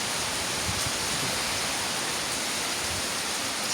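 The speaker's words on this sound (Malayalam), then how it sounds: "ഭയങ്കര കാറ്റ്." Strong wind blows outdoors as a loud, constant rushing hiss that stays at an even level for the full length, with no pauses or gusting breaks.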